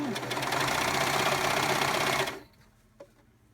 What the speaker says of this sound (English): with a serger, you need to serge your way off